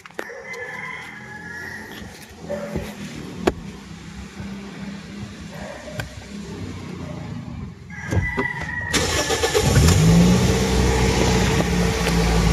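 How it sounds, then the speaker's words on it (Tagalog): A Toyota Vios J car engine is started and then runs, with quiet ambient rumble early on, a brief crank, and then a steady, louder engine hum building toward the end. "Start po natin yung engine mga boss."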